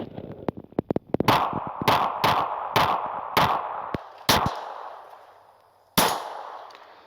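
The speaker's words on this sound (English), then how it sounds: "So let's do a little bit of rapid fire here and see if we can keep it on the target." A Glock 42 pistol is fired rapidly at an outdoor range: a quick string of sharp, loud shots, each with a ringing tail, then a final isolated shot after a pause, with faint clicks at the start and no voices.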